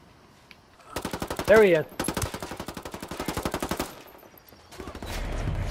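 Rapid automatic gunfire in the multiplayer shooter Ghost Recon Wildlands Ghost War, several loud sustained bursts of shots with short pauses between them, while a player speaks briefly over the firing.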